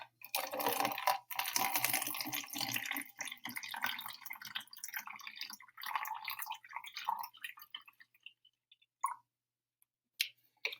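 Water trickling and dripping down a model hill built from Lego pieces and tubing, a close, busy patter that thins out into scattered drips and then near silence.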